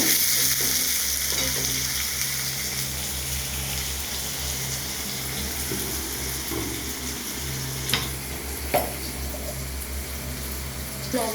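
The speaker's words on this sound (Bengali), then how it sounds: "লবণ দিয়ে ভেজে নেব" Ash gourd pieces fry with salt in a pan, giving a loud, steady sizzle close up, with a couple of faint clinks near the end.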